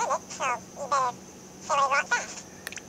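Recorded human voice played back through a Nintendo 3DS sound app's parrot effect, giving short high-pitched chirpy syllables in a few quick bursts separated by brief gaps, small and thin, with a tiny click near the end.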